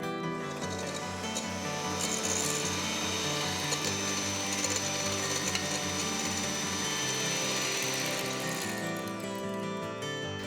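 An electric mixer steadily whisks meringue as sugar is added a few tablespoons at a time, a loud continuous motor whir with a rattling, beating texture that holds without pause.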